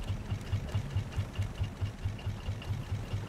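A raft motor running in the Raft survival game, a steady close mechanical chugging with a regular pulsing beat, about four thumps per second, at moderate level with nothing over it.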